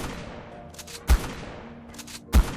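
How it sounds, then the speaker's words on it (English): Two loud, sharp shotgun blasts about a second apart in the ARK video game during the Rockwell boss fight, each a sudden broadband bang over a low rumbling game backdrop, with no talking. "we're certainly having to fire a lot of shots here"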